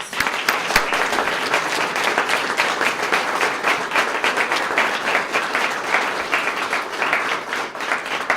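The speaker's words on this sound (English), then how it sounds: "So I think they deserve another round of applause." Applause fills the room at a Sarasota Police Department swearing-in ceremony as the audience honors new officers, a loud, sustained crowd clapping with crisp individual claps throughout and no speech.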